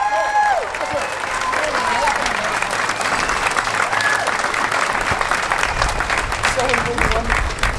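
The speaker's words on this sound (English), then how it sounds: "Let's give him another round of applause." Sustained applause from a crowd at an outdoor freedom rally, a steady dense clatter of clapping filling the whole stretch at close range with some scattered cheering mixed in.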